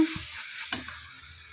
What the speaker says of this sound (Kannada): ಹೀಗೆ ಲೋ ಫ್ಲೇಮಲ್ಲೇ ಇದನ್ನು ಫ್ರೈ ಮಾಡ್ಕೋಬೇಕಾಗ್ತದೆ